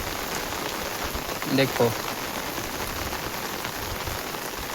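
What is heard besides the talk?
rain falling in the village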